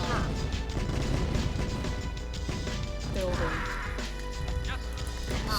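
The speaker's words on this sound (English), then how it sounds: "Let's destroy these silos here." Destruction of silos in Command & Conquer, Nod Mission 5: Mauritania: dense crashing and thudding game impacts with explosive bursts, steady and loud throughout, with game effects layered over one another.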